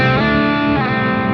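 An electric guitar plays through a high-gain preset on a JBL Bandbox Trio amp, a loud sustained distorted chord that shifts pitch partway through, with no talking.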